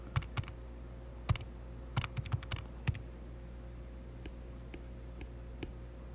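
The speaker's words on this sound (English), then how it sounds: "Grab your calculator and multiply those two numbers together and write down what your calculator" Calculator buttons pressed while multiplying two numbers, heard as a run of light, quick plastic taps in an irregular rhythm, louder at first and then fainter and sparser, close by over a steady low hum with no speech.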